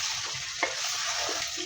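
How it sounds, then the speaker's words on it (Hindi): Ground turmeric, cumin and salt fry in oil in a pan for a dhaba-style chicken palak, giving a steady close sizzle with a few soft scraping stirs of a spoon and no talking. "और अब इन सब चीज़ों को भून लेंगे।"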